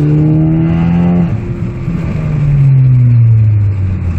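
A turbocharged Ford Focus ST engine revs up close under boost, its tone rising and dipping as it accelerates, loud and continuous with no talking.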